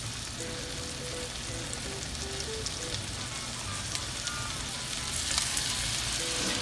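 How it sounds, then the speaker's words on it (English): Chicken searing in butter in a cast iron skillet, giving a continuous dense sizzle and crackle that stays close and even throughout, with faint kitchen hum beneath and no talking. "So we're going to sear these"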